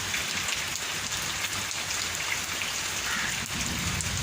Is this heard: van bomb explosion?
no